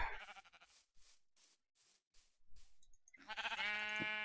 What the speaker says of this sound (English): Maybe I'll just kill this damn sheep.